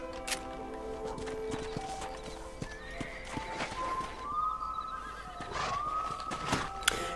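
A horse in the video game Red Dead Redemption neighs with a rising, drawn-out whinny over soft hoof clops and a quiet background bed; moderately close, no talking.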